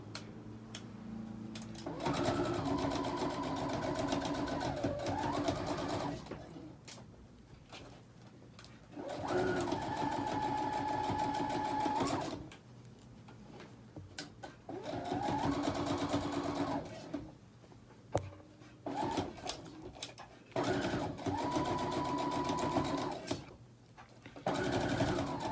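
A sewing machine stitches jeans with white thread, running in several long, steady bursts separated by pauses with handling noise. A pigeon coos faintly in the background.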